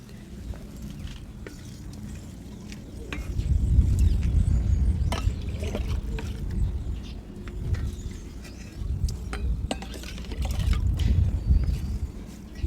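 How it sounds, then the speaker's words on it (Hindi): Water is poured into a potted rose plant set in cinder for repotting, a soft gurgling trickle and splashing that swells in bursts, close by and alone. "अब ये पानी हम डाल देंगे।"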